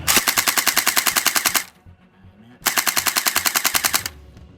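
An AK47 electric gel blaster fires two rapid automatic bursts, each about a second and a half of fast, evenly spaced loud clacks, separated by a short pause with mechanical rattling.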